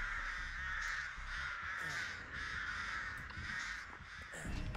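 Crows caw over and over in the Dead by Daylight video game, their harsh calls repeating steadily and fairly loud across the whole stretch, with no talk.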